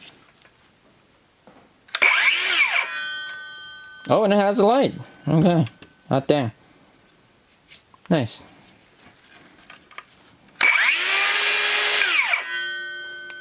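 A DeWalt DCS570B cordless circular saw spins up twice with a loud high whine and coasts down, separated by several stretches of close talk.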